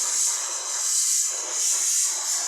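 A steady, loud high-pitched hiss of steam escaping from a pressure cooker runs throughout, swelling and easing slightly, with no voices.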